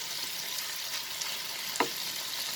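Chicken and French beans stir-fry over a medium flame in a steady, close sizzle, with a few faint stirring scrapes cutting through the hiss.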